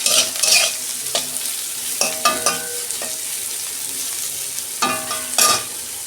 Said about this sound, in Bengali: আমি 2 মিনিট একটু পেঁয়াজগুলো ভেজে নেব